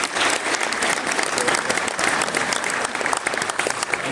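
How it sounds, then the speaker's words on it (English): Applause for volleyball coach Jayla Nicholson at a school athletic awards ceremony in Ponoka, a lively, close burst of clapping from a gym audience lasting a few seconds. "so big round of applause there for her"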